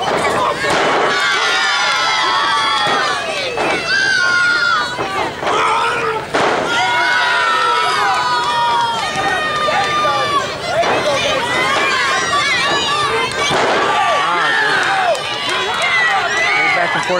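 A loud crowd at an independent wrestling show at The Water roars and cheers continuously throughout, with shouts and sharp bursts rising over the dense noise and a commentator talking over it.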